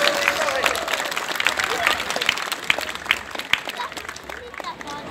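An audience at a juggler's street performance at the Wallensteintage festival in Stralsund claps and applauds steadily for several seconds, with scattered crowd noise mixed in.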